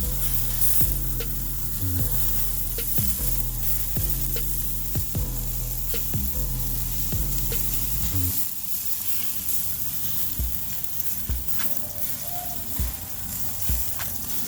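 Bacon-wrapped burgers sizzle and crackle loudly in a hot pan, with a steady frying hiss and occasional pops.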